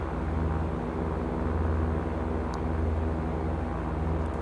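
A light aircraft engine drones at full throttle during a cross-country flight in a VR flight game, a dense, steady low roar with a throbbing hum that stays constant and close throughout.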